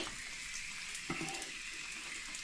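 Water drains from a pipe into a utility sink in a steady, continuous rushing hiss, with a small splashy burst near the middle and no voices.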